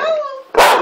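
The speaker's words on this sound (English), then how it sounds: "Howl, Chico. Watch him" A dog's drawn-out, wavering howl, close and fairly loud, followed abruptly by a louder, harsh burst of vocal noise at the end.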